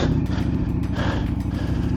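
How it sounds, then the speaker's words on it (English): A Ducati Panigale V4 engine idles high while warming up, fast and steady up close, a continuous buzzing rumble with slight rhythmic pulsing and no pauses. "why is my bike idling so high?"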